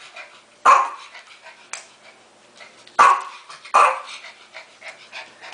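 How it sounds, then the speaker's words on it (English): A dog barks in three sharp, loud bursts close by, with quieter yips and whimpers between them. "what you barking, huh?"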